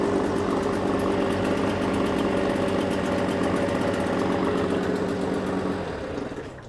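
A Suzuki DT6/DT8 outboard motor fitted with a Chinese carburetor idles steadily and close, a buzzing, even two-stroke putter that fades slightly at the end.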